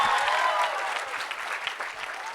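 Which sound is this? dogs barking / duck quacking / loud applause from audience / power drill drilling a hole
loud applause from audience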